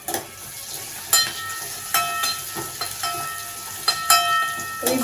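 Garlic and a dried red chili sizzle and fry in hot oil in a pan, a steady crackling hiss with louder pops and stirring bursts, close and alone.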